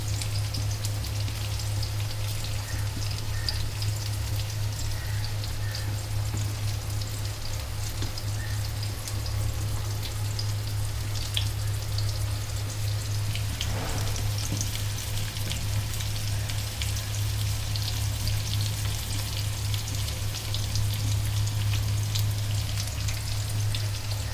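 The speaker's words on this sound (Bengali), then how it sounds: "এই পাশে আর এ পাশে ডাইল বাগার দেওয়ার জন্য পেঁয়াজটা ভাজা হচ্ছে পেঁয়াজ রসুন" Onion and garlic fry in hot oil for a dal tempering, giving a steady, even sizzle that continues unbroken over a low background hum.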